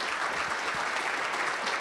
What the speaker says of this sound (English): please, a round of applause again to MELD